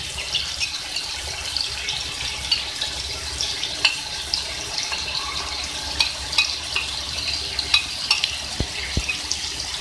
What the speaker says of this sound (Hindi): इसको भी सारा सब हम फ्राई कर लेंगे तमाम मसालों के अंदर।